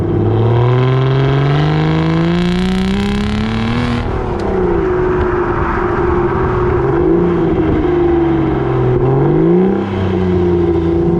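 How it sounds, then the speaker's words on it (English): An Aston Martin DB9 engine growls loudly from close by as it accelerates, pitch climbing steadily, then dropping on a gear change before rising and wavering again with the throttle. "It's mainly induction. You get a lovely sort of intake growl"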